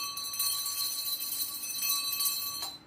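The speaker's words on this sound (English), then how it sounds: "Oh, don't forget the bell." A bell rings with sustained, steady metallic tones that carry through the short moment before cutting off, heard alone without speech.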